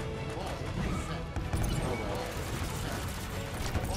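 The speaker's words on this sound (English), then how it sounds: "The thing keeps exploding!" Explosions rip through a Halo 5 Team Arena match, with dense, rumbling blasts and crashes overlapping in quick succession, loud and chaotic.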